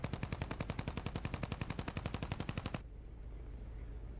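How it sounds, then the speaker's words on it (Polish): Rapid automatic gunfire, a rhythmic burst of about thirty evenly spaced shots that ends abruptly and leaves low background noise. "Kolejna próba. Trzy próby strzału."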